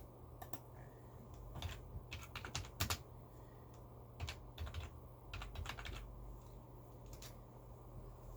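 Fast, irregular clicking of typing on a computer keyboard, quiet and close, in short bursts with brief pauses over a low steady hum.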